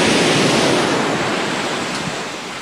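Loud ocean surf rolls in continuously at Matnog port in Sorsogon, a steady broadband roar of waves with wind buffeting the microphone, no voices.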